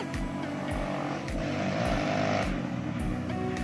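A motorcycle passes on a hilly road at Bukit Pakar Utara, Bandung, with repeated rising and falling engine revs and gear shifts, close and fairly loud over a brief few seconds.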